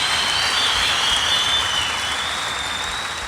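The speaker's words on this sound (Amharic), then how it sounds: "አጨብጭቡላት" Audience applause for a young woman at a youth gathering, a steady broad wash of clapping that holds at an even level throughout, with no voices over it.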